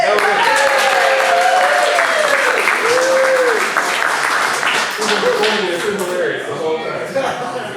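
Loud, sustained applause from a large improv show audience, a dense wash of clapping with cheering voices mixed in, running throughout.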